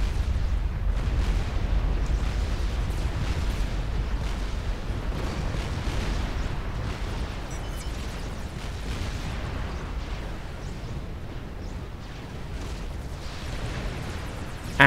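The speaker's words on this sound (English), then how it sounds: "Down goes his base in nuclear fire" A nuclear strike levels a base in the real-time strategy game Forged Alliance Forever, a loud, sustained rumbling roar with crackling bursts that holds steady for about fifteen seconds before a sharp blast at the very end.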